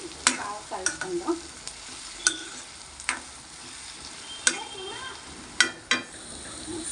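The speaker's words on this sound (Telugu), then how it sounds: "ఒకసారి బాగా కలుపుకుందాం." A spoon stirs carrot and coconut curry in a pan, giving irregular scraping clicks and taps over a soft, steady sizzle, with no talking.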